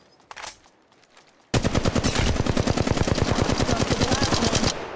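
Automatic weapon fire in Apex Legends Mobile starts with a couple of brief shots, a pause, then a long sustained burst of rapid, evenly spaced rounds, loud and close, cutting off abruptly.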